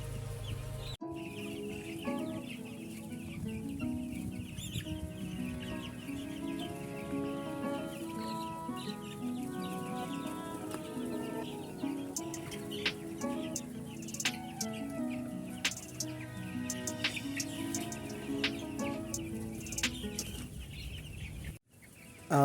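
Many 14-day-old chicks in a brooder cluck and chirp continuously in a busy, enclosed space, a dense flock chorus with occasional sharper peeps rising above it.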